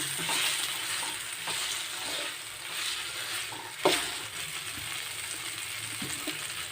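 Tomato, green chili and mixed vegetables frying in a pan sizzle continuously up close, with stirring scrapes and one sharp clatter midway.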